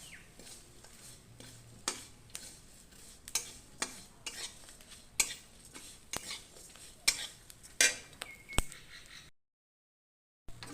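Irregular metallic scrapes and clinks of a spoon stirring bottle gourd peel with green chillies in a pan over a soft hiss, close by, ending in a moment of silence.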